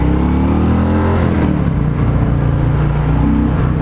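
A 2020 Harley-Davidson Fat Boy with a 114 V-twin rumbles loudly and steadily while being ridden, deep and close throughout with a slight rise in pitch, no speech.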